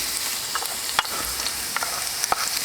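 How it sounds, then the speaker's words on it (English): Garlic and ginger sizzle steadily in hot oil in a wok on a Kamado Joe grill, a bright continuous crackle close up, broken by a few short scrape-and-tap hits from stirring. "garlic and ginger, get that oil fragrant."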